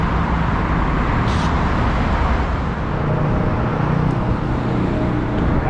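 Loud, dense city traffic on a Los Angeles street, with a bus roaring close by among steady car and engine noise that never lets up.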